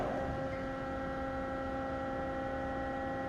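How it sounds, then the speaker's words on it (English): A steady, low mechanical hum with a constant drone and faint overtones, unchanging throughout, from the hydraulic pump of a Hydmech dual post horizontal band saw running nearby. "we'll start the hydraulic pump. You hear it pump sounds great."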